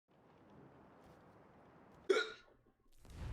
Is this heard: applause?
no